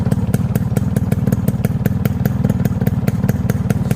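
A fresh-condition Yamaha RX 100 motorcycle idles close by, its loud engine firing in a quick, regular clattering rhythm without any talk over it.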